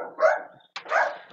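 A dog barks indoors in two short, loud bursts separated by a brief silence, each with a whimpering, yipping edge.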